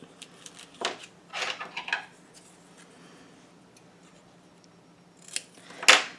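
Scissors snip dark patterned paper to size for a scrapbook album, giving a few close, crisp cutting strokes early on, a quiet stretch, then a louder final snip near the end, with no talk.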